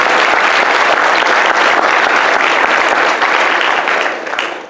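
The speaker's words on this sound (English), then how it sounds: "Please give him a round of applause and welcome him." Sustained audience applause at a county public forum on law enforcement and detention, dense steady clapping filling the room, then thinning and fading out toward the end.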